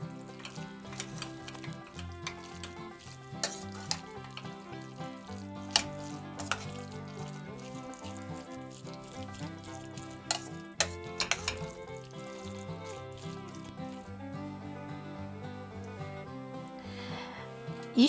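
A spoon stirs stewing cabbage with tomato juice and a little water in a pot, giving scattered scraping knocks under steady background music.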